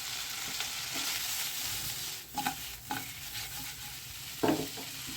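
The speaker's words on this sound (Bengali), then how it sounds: "এখন মাছটাকে একটু ঝাঁকিয়ে ঝাঁকিয়ে আমি উঠে নিচ্ছি মানে মাছটাও ভাজা হয়ে যাবে" Tangra fish fry in a spice paste while the pan is shaken and stirred, a constant close sizzle broken by a few louder scraping, rattling bursts.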